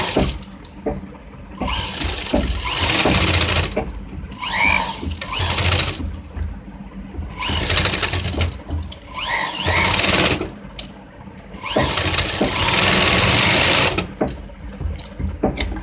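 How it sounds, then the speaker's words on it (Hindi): Sewing machine stitching a patti neck design, running loud and close in long continuous bursts with brief pauses between runs as the fabric is turned. "इस तरीके से हम दूसरी साइड को घुमाते हैं और ऊपर की तरफ सिलाई लेकर जाते हैं"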